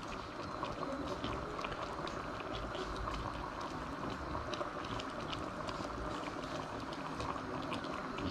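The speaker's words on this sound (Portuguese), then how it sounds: "Agora eu entro com azeite de dendê." Fish and shrimp moqueca simmers steadily in a pan, with a continuous bubbling, sizzling hiss as palm oil is added, close and even throughout with no talking.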